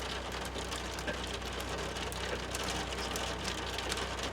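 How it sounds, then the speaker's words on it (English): Hail patters steadily and densely on the roof of a Jayco motorhome during a first hailstorm, a constant hiss of small impacts with no talking. "Uh-oh, got a bit of a hail going."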